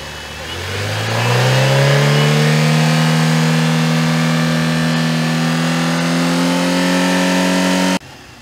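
A car engine revs up hard and holds a high, steady drone for several seconds, then cuts off abruptly; recorded close up during a cooling-system flush, with no talking.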